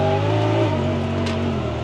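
A Honda Pioneer 1000 side-by-side engine drones steadily under load while driving in manual mode, with a brief change in pitch as it shifts, heard close and continuous.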